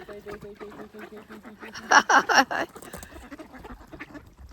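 A cluster of loud, close duck quacks breaks out midway, with a voice talking quietly before and after, near a nutria sharing the ducks' space.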